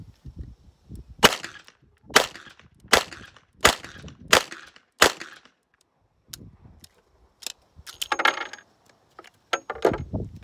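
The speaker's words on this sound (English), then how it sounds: "is the swapping of the cylinders" Cylinders swapped on a Nighthawk Korth revolver, switching between a .38 and a 9mm cylinder: a series of crisp metallic clicks and snaps, evenly spaced at first, then quieter rattling and handling noises.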